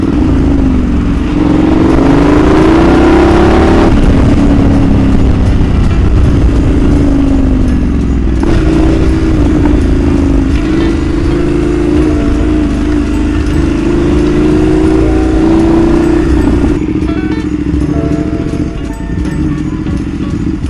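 Dense traffic along Commonwealth Avenue in the Philippines beside the MRT extension, with a steady roar of engines, motorcycles and passing vehicles filling the scene loudly and continuously, without a break.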